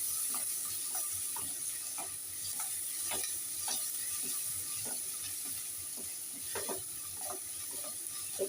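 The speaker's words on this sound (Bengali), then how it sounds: "এর মধ্যে দিয়ে দেবো একটা টমেটো দিয়ে দিলাম, দিয়ে আবার একটু নেড়ে নেবো" Tomato and onion fry in a pan with a steady sizzle, while a spoon stirs and scrapes in regular strokes, near and fairly quiet.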